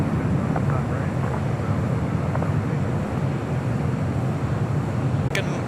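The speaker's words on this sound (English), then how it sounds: "Next departure on the south side is the Big Q, Qatar Airways Flight 740 at A350-1000, heading back to Doha" A Qatar Airways Airbus A350-1000 departs from the south side at LAX, making a broad, steady roar that stays fairly loud and even throughout, with a brief sharp click near the end.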